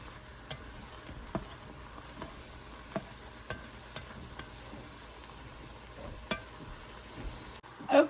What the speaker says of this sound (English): we're starting to get some of our sausage fried in this thing